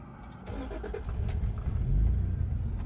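A 1986 Acura Legend engine cranks and catches, settling into a steady low rumble that grows slightly louder toward the end.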